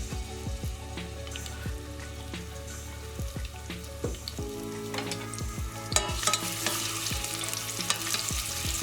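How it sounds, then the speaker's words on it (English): Garlic and onion fry in olive oil with a soft, crackling sizzle under steady background music with a thumping bass beat. The frying grows brighter and busier toward the end. "The first goes in garlic and onion."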